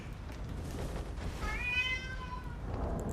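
A house cat gives one drawn-out, wavering meow in the middle, fairly close and clear over a steady low room hum, with quiet moments before and after.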